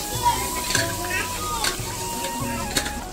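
Ground cumin, chili and coriander powders sautéing in hot oil in a home kitchen pan, a continuous sizzle broken by scraping stirs of a spatula, close and moderately loud with faint background voices.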